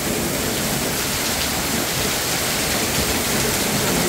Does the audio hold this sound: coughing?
no